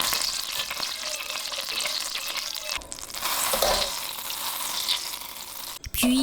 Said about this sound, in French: On va faire fondre le beurre.